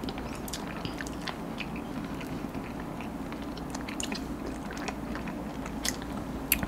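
Someone bites and chews soft gummy eyeball candy, with steady close-up squishy chewing and scattered small crunchy clicks continuing throughout.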